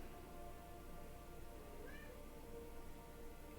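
A cat meows once, faint and distant, out in a hallway, over a constant low background hum.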